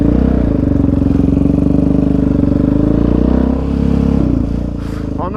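Yamaha Raptor 700 ATV engine running steadily on a gravel road on a winter ride, a loud continuous throbbing drone with a brief dip near the end, no talk.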